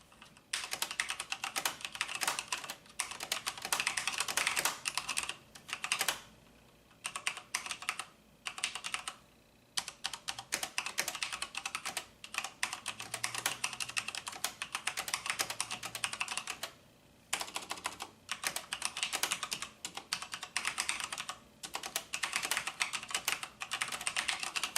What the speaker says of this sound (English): I don't know why I'm typing so much without this even plugged in.